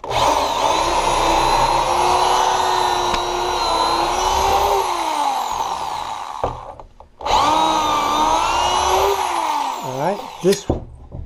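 A power drill whines steadily at close range while drilling into wood, its pitch dipping under load, pausing briefly, then running again before stopping with a few clunks.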